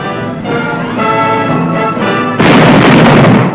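Cannon and mortar fire from the Monitor, a shallow-draft Vietnam-era landing craft armed with 40mm and 20mm cannon and an 81mm mortar, 1968; a steady tonal drone gives way to a sudden loud, rough blast that roars on to the end.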